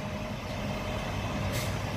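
A heavy truck engine rumbles steadily nearby, with a brief hiss of air brakes releasing partway through.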